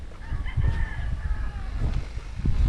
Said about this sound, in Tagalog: may mga uwak sa gitna ng ating taniman